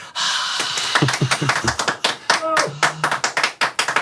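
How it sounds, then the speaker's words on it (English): A small podcast-studio crowd applauds to welcome a guest, with a mix of hand claps and taps at varied tempo, close and fairly loud, with some breathy gasps. "And the crowd go wild."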